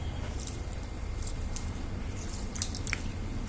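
Rice being rinsed by hand in water for idli batter, with soft squishing and sloshing of wet grains and occasional small splashes and drips, close and quiet over a low steady background hum.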